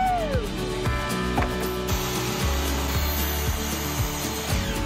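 Power saw cutting through wooden wall studs while framing a house from scratch, a steady loud whine with repeated cut strokes and tool clatter throughout, close by.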